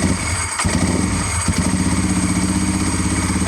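Motorcycle engine powered by a cheap replacement battery runs with a steady, loud, close throttled roar and brief dips as it is revved, with no voices over it.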